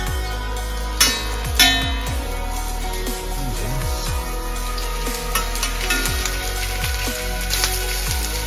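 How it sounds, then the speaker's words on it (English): Bangers (sausages) sizzle steadily in a hot frying pan, a loud continuous crackle with a few sharper pops and scrapes near the start; no one speaks. "And we'll let those sizzle away until they are thoroughly cooked through."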